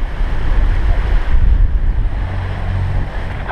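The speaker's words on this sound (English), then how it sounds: "It's those stinking waves that keep catching us." Large ocean rollers wash and surge around a sailboat at sea in rough conditions, a loud continuous roar of breaking water and wind with deep rumbling swells and no voices.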